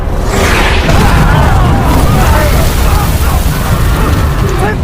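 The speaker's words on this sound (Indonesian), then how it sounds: "gempuran meriam jarak jauh dihamburkan" Heavy booming blasts of long-range cannon bombardment roll continuously, with deep rumbling impacts layered under a loud, chaotic wash of noise and distant shouting voices.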